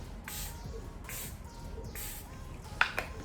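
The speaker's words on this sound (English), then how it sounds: "I'm gonna go ahead and spray my face with the Omari Code Skin Mist" A few short, airy hisses of a fine facial mist spray, spaced apart, with a faint click near the end.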